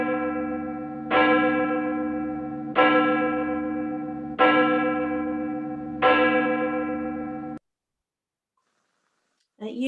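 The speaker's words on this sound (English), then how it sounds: "At Unity, we light this candle and ring this bell" A church bell is rung four times during a Sunday service, each clear resonant strike ringing out and fading before the next, evenly spaced, followed by a silence and then the start of speech.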